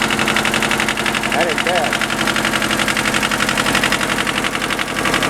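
A diesel tractor engine idles steadily close by, its low continuous rumble and knocking vibration running throughout while someone speaks briefly over it.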